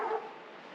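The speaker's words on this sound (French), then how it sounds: "Un chien qui aboie." A dog barks once, loud and close, on a hiking trail near a village and a cliff-side climbing area above a river, then only faint outdoor hiss remains.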